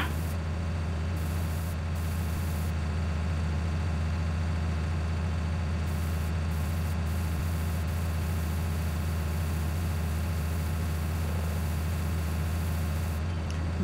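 A small tractor in Farming Simulator 19 hauls heavy trailers, its engine a steady low drone with a constant hissing, static-like wash throughout and no change in pace.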